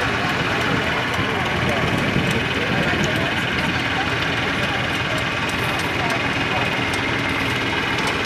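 A tractor engine idles steadily at a pumpkin patch during a birthday outing, a continuous low rumble running the whole time beneath nearby voices and chatter.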